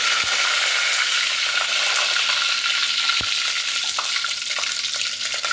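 Mustard seeds, cumin and curry leaves sizzle steadily in hot oil in a home kitchen for a traditional Marathi vegetable dish, a loud close continuous hiss with a few faint pops and clicks, no talking.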